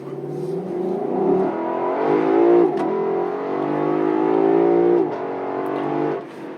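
A 2020 Lexus LC500 V8 pulls hard out of traffic, its engine note climbing steadily through the gears with a brief dip between shifts, loud and continuous from inside the car.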